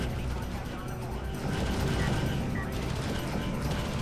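Rapid gunfire from assault units in the real-time strategy game Homeworld: Deserts of Kharak, a dense continuous clatter of shots and mechanical battle noise filling the whole stretch, steady and loud with no clear gaps.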